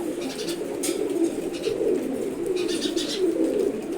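Several male pigeons coo softly and repeatedly nearby, their low rolling calls overlapping in a continuous murmur with faint flutters.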